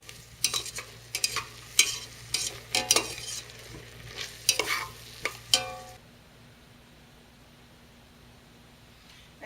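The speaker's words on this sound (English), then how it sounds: "we're just going to saute that around and get them nice and translucent, slightly browned" Onions sautéing in a pan, a low sizzle punctuated by repeated scraping and clattering stirs for about six seconds before the stirring stops and only a faint hiss remains, close and without voices.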